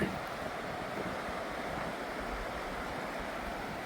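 Water laps steadily at a small beach beside a trailside camp on the Appalachian Trail in North Carolina, a continuous soft wash of surf with a faint breezy hiss and no speech.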